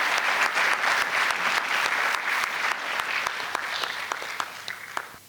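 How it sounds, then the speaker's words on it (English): Steady applause from a sizeable audience at a college induction ceremony, dense clapping holding strong and then starting to thin toward the end, with no voices heard. "Let's welcome him with a round of applause"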